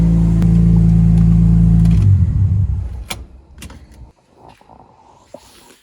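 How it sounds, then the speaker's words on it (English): A Nissan car with a VQ engine runs with a loud, steady droning hum for about two seconds, then winds down and cuts off. A few sharp clicks and small mechanical noises follow in the quiet. "I forgot that this car actually sounds kind of good."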